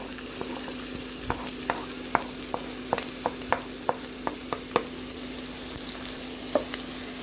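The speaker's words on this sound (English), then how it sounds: "let's fry our onion" Onions frying in a pot for a rice and meat dish, a steady close sizzle broken by a run of sharp scraping stirs.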